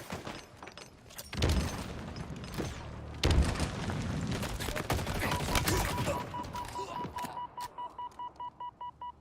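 Rapid gunfire bursts and booms in a Halo Infinite multiplayer match, dense and loud amid game effects, ending in a run of repeating electronic beeps.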